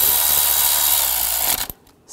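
A ratchet spins as it snugs down bolts on the 3.5L V6 engine of a 2006-2009 Mercedes-Benz E350 during knock sensor replacement; a dense, steady clicking runs close and loud for about a second and a half before breaking off.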